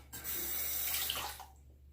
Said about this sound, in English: I'm going to rinse this and do just a bit of a slickness test